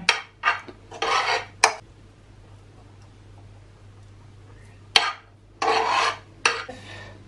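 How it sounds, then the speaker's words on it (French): Ingredients going straight into a saucepan in a home kitchen: several short clinks and scrapes of utensils against the pan, close by, then a quiet pause before more clattering and scraping, with no talking. "je vais mettre directement tous les ingrédients dans ma casserole"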